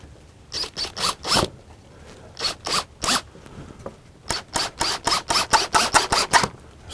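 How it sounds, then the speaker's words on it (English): Screws being driven into the wooden base of an inkle loom, heard as a close, loud series of whirring bursts from a power driver, a few spaced runs followed by a rapid string of short pulses, with no talking. "Now we're just going to run a couple screws down through here."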